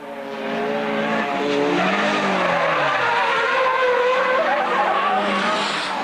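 An Opel Manta race car sliding through a bend, with a loud engine drone and sustained tire squeal building after a quiet start and holding to the end.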